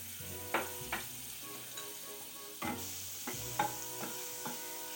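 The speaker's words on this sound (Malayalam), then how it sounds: "ആദ്യം നമുക്ക് നമ്മളുടെ സവാളയൊന്ന് വഴറ്റിയെടുക്കാം. അതിനുവേണ്ടി നമ്മൾ എടുത്തു വെച്ചേക്കുന്നതിൽ കുറച്ച് ബട്ടർ ഇട്ട് കൊടുക്കാം." Butter sizzling in a pan before onions are sautéed, a steady bright crackle with several sharper pops and spatters scattered throughout, heard up close with no talking.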